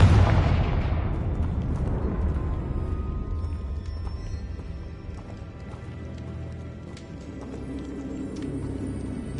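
Confringo fire spell from the Hogwarts Legacy video game, opening with a loud blast that fades into a long, low rumbling decay with faint scattered crackles.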